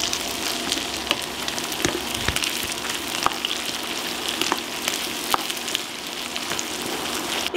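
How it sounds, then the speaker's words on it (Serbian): Onion, potato, carrot and finely chopped garlic frying together in a pan, a close steady sizzle with scattered sharp pops and crackles throughout, no talking. "Nakon 10 minuta prženja dodajem sitno seckani beli luk i pržim još 2 minuta."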